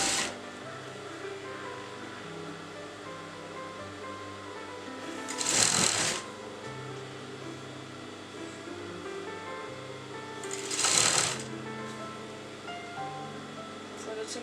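A sewing machine stitches kurta fabric in a continuous steady whir, broken twice by short brighter bursts of louder mechanical noise.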